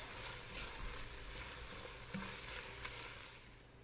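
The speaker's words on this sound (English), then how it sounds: "I'm going to continue to cook this flour down for about 2 more" Flour cooking down in a pot of French onion soup base gives a steady, soft sizzle and faint stirring that stays even throughout with no talk.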